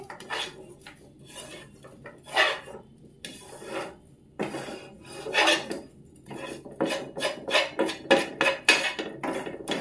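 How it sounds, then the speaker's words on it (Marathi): Roasted dry-date powder and halim seeds are scraped out of a pan into a dish. Close, irregular scrapes and metallic clinks of a spoon against cookware come in bursts with short pauses between. "आता मी हे पण काढून घेते एका डिश मध्ये"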